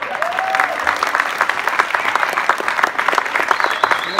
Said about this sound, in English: How about a nice round of applause for Aaron Shelby?